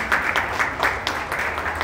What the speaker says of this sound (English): a big round of applause for Author's Nest.